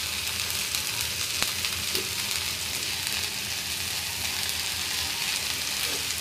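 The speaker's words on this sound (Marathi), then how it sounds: "परतून घेऊया।" Okra sabzi being sautéed in a frying pan gives a steady, dense sizzle that runs throughout with little change, with only faint occasional stirring touches.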